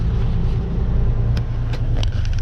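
Car driving in slow traffic on the Mass Pike through a construction zone, a loud steady low rumble of road and engine noise from inside the vehicle, with a few faint clicks.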